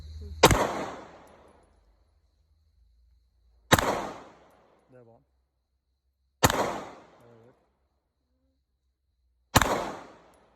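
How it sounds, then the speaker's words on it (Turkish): Four sharp, loud pistol shots during basic firearms shooting training, spaced about three seconds apart with magazine changes between them, each shot followed by a short decaying echo and faint clicks of handling in the gaps. "Şarjörü değiştirerek atış serbest."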